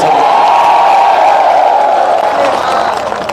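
Dense crowd noise at a political rally in Chachaura-Binaganj, Madhya Pradesh, a steady loud wash of applause and cheering that swells without pause and eases slightly at the end.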